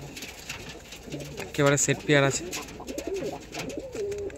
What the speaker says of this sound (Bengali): এই যে পায়রা দুটো দেখুন